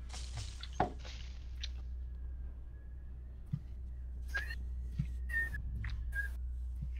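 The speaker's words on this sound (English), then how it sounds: "it's the fucking wind in the window" Wind whistling in a window: a thin, wavering whistle drifts in and out over a steady low rumble, with a few faint clicks and taps in the room.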